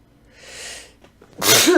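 A single sharp sneeze, close and loud, preceded by a soft breathy inhale.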